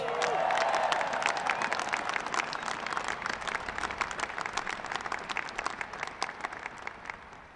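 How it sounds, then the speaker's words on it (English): Large crowd at the 2016 U.S. Air Force Academy graduation ceremony applauding: a broad, sustained wash of clapping with a few cheers, loud at first and gradually tapering off toward the end. "Give them a big round of applause."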